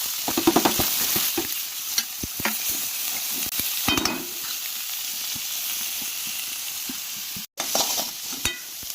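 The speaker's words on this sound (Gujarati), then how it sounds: "આપણે જીરું ને રાઈ નાખીએ છીએ, કટિંગ કરીને મૂકી છે ઝીણી, એ તેલમાં સાંતળવાની છે." Cumin and mustard seeds sizzle in hot frying oil for a Gujarati-style besan sabji, a steady close crackling hiss with frequent sharp pops and stirring scrapes, briefly cutting out near the end.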